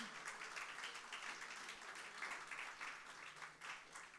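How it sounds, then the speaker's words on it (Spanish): A church congregation claps for the Lord during worship, a faint, distant, sustained patter of many hands with slight pulsing swells throughout. "Dale el aplauso al Señor."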